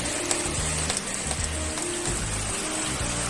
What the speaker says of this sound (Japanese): 空っぽの水槽にすぐに水が溜まってしまうほど雨が強いですね。